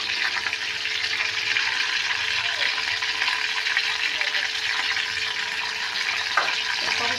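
Onions frying in oil with garam masala, a steady close sizzle and hiss holding throughout with a faint clink near the end and no talk.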